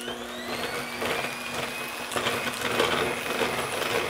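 An electric mixer whirs steadily while beating almond cookie dough in a bowl until it turns pale and fluffy, a loud continuous motor drone with the beaters rattling faintly and no voices.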